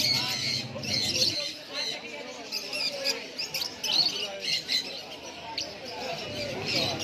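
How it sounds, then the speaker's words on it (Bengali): Cockatiels and rainbow lorikeets in cages at the Galiff Street pet market in Kolkata give repeated sharp squawks and chirps at a moderate distance, scattered throughout under some background chatter. "এখানে রয়েছে ককাটেল, লুটিনো, স্প্লিট, রেইনবো লরিকিট।"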